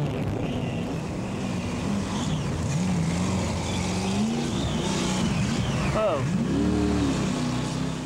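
A racing jet boat engine roars through river rapids during a marathon race, a steady loud drone with shifting, wavering pitch under rushing water noise, and a brief exclamation from a voice near the end.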